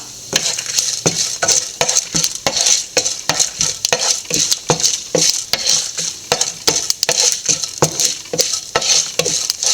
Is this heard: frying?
yes